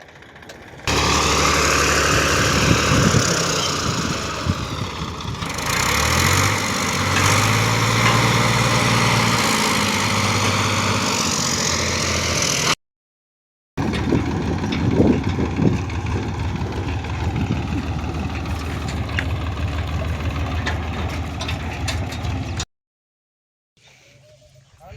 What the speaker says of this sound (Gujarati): આપણે છે ને પંખા અને સાયલેસર ભાંગી ગયું ને, તો અવાજ પણ નેક્સ્ટ લેવલ આવે છે